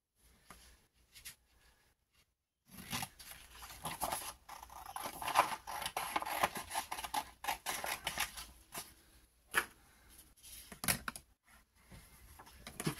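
Scissors cut through sturdy paper to shape a pocket for a junk journal, with close, crisp snipping and rustling in irregular bursts after a quiet opening and no talking.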